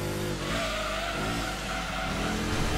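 Racing car in Gran Turismo 2 slamming into a trackside barrier, a loud continuous engine roar with scraping tire squeal layered over it, steady and close throughout without any voices.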